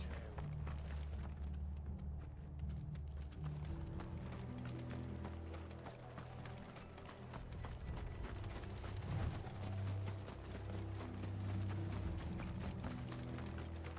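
Horse hooves in the Final Fantasy XVI video game, a rhythmic clip-clop mixed with creaking, ratcheting mechanical clatter like a cart or gears, running steadily under a rumbling low game soundtrack.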